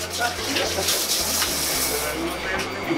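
Water runs steadily from a hose during saltwater aquarium maintenance, a continuous rushing splash heard up close with a voice speaking over it.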